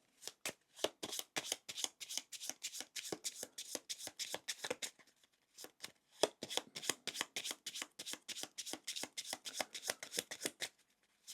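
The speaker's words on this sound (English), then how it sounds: "Shuffle the travel cards" Travel cards for the Arydia board game are shuffled by hand, a long run of quick, crisp riffling bursts in two stretches with a short pause between, close and fairly quiet.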